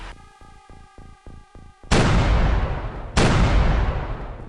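A short run of rhythmic mechanical clicks and tones gives way to two loud, booming grenade explosions in X-COM: UFO Defense, each a sharp blast trailing off into a long rumbling decay.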